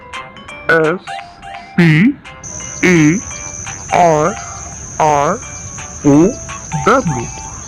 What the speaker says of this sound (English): Grasshopper sparrow.